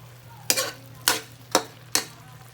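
Food frying in a pan and being stirred, four distinct scraping stirs at a steady pace over a low, constant hum.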